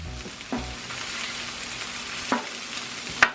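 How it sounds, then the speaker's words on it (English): Cooked rice sizzles and fries steadily on a Blackstone griddle for a jambalaya, a continuous close hiss with a few sharp scraping clicks as a spatula breaks it up. "Just browning up some rice on the griddle."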